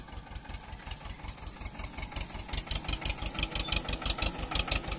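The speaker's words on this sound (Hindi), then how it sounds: "ठीक में जुताई कर रही है ट्रैक्टर से।" An Escort Maruti tractor pulling a three-tine cultivator through a sugarcane field runs with a steady, rapid low engine thump, growing somewhat louder partway through, with no voices.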